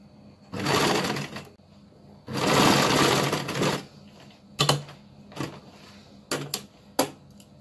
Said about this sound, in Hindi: सबसे पहले मैं इसका सेंटर मार्क सिलाई लगा लूंगी